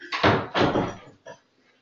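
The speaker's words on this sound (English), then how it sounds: "So let me shut this door real quick." An indoor door is pushed shut, giving two heavy thuds close together followed by a lighter latch click, loud and close with no talking.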